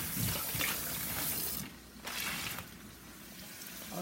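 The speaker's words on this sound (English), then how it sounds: "I'm gonna rinse this piece off some more. See, I'm washing it off." Salt fish being rinsed under a running kitchen tap makes a steady close rush of water splashing into a sink, briefly interrupted when the flow is blocked, then resuming.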